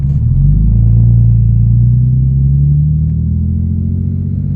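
A BMW 335xi engine hums steadily with a low rumbling drone as it drives along after a front axle replacement, the pitch rising slightly as it accelerates, close and continuous.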